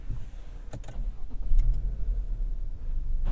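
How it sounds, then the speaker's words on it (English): A 2022 Subaru Outback Wilderness engine cranks and starts, with a few brief clicks and a short crank settling into a low, steady idle, heard from inside the car. "before we start the engine"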